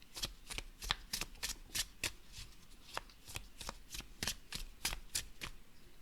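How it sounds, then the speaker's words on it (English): Tarot cards are shuffled overhand in a steady run of crisp, rapid riffling slaps, close and alone with no talking. "Let's go ahead and see how the deck shuffles."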